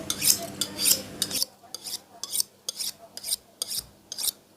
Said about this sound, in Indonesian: Sekarang kita asah pakai menggunakan asahan Jianfeng.